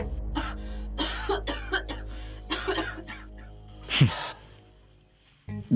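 A man coughs repeatedly behind a closed door in a radio drama, a run of muffled, chesty coughs in uneven bursts, then a sharper throat-clearing rasp and a short pause.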